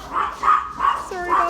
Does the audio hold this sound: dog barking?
yes